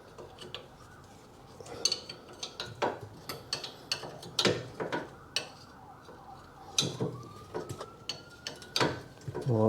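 A wrench works on the tight 19mm caliper carrier bolts of a 2009 Fiat 500C 1.2 petrol, producing a steady series of metallic ratchet clicks and clanks at close range, with a brief scrape near the end.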